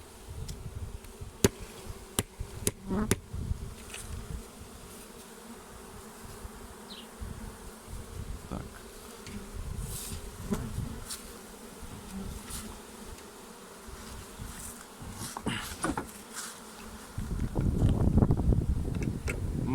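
A honeybee swarm buzzing steadily as the bees move into a hive, a dense hum with individual bees passing close to the microphone and a louder burst of buzzing near the end.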